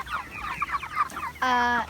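Cornish Cross meat chickens clucking close by, a run of quick, busy clucks followed by one longer, sustained call.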